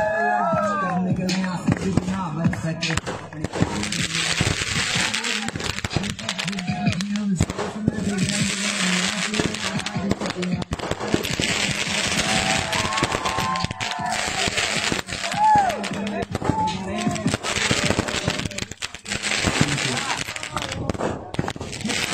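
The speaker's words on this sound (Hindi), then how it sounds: "रसूखदार दोस्तों ने युवक का जन्मदिन मनाने के पहले एक के बाद एक कई हवाई फायर किए, साथ ही आतिशबाजी कर बीच सड़क पर जन्मदिन मनाया" Gunshots fired into the air alongside fireworks at a birthday celebration held in the middle of a street in Indore, heard as repeated sharp cracks and pops in clusters beneath a news narrator's voice.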